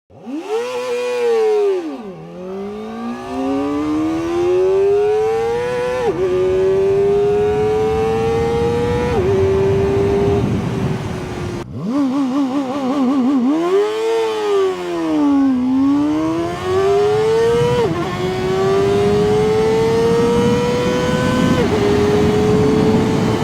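A CFMoto Voom 500 SR motorcycle accelerates hard through several gears, its loud, close engine note climbing steadily then dropping briefly at each shift before rising again.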